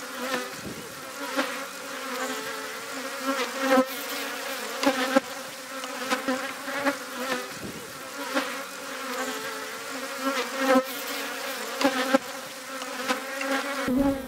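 Honeybees buzz steadily around an open beehive frame where young bees are hatching and honey is being capped, a dense, continuous hum close up with occasional louder passes of individual bees.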